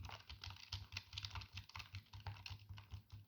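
Rapid, steady keystrokes on an inexpensive gaming computer keyboard, a dense run of close clicking taps with no talking.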